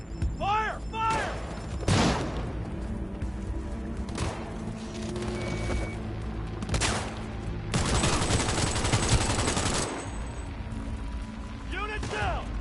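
Heavy gunfire from the video game Cyberpunk 2077 crashes out in several loud broadband bursts, with a long sustained volley near the middle, while voices shout commands over the combat.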